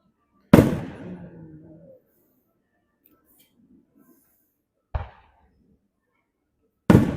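Three sharp firework bursts at a small-town Fourth of July celebration, the first loud with a trailing rumble and crackle, then a quieter pop and another loud blast after a pause, with faint murmuring between them.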